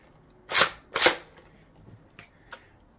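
Reloading a Nerf LMTD Aliens M41A Pulse Rifle toy blaster gives two loud, close plastic clacks in quick succession, then a few fainter clicks and a final snap, with no voices.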